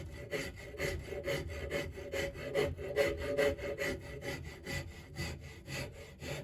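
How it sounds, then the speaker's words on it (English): A horseshoe rasp files across a wooden hammer handle being flattened on top, in quick rhythmic scraping strokes, close and continuous with no speech. "So I'm going to take a horseshoe rasp."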